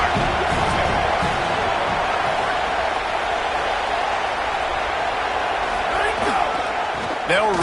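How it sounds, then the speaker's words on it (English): A home crowd roars at a football game, a steady loud wash of cheering that runs throughout, with occasional bumps and a commentator's voice over it. "this home crowd getting involved right from the start"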